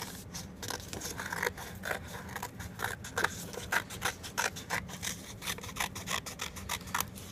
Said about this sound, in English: you're going to just cut right on the line that you just made